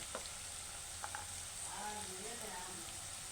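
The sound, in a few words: potatoes frying in a pan until brown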